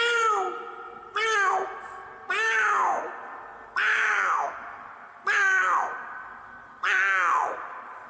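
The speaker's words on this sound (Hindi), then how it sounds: "जो छोटा बच्चा है वो कैसे बोलता है।" Six rising-and-falling kitten meows, evenly spaced about a second and a half apart, close and clear with a bright, slightly echoing tone and nothing else in between.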